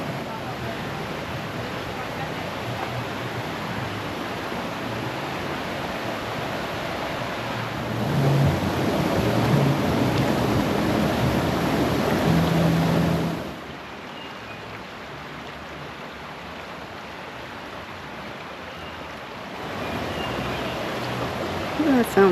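Water pours steadily at the Roswell Mill waterfall near Atlanta, a continuous broad rushing roar that swells louder for several seconds, drops back, then rises again.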